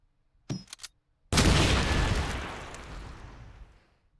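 Grenades in the Call of Duty 2 video game: a couple of short sharp pops, a brief pause, then one loud booming blast that rumbles and fades over about three seconds, with no talk.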